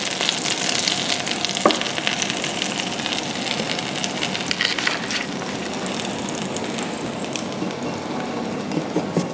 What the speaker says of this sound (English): And it's frying.